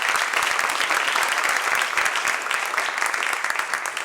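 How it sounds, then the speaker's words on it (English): An audience at an annual gala applauds a speaker, producing a thick, continuous roar of clapping at moderate loudness, steady from start to finish with no voices over it. "Let's give him a round of applause as he continues to catch his breath"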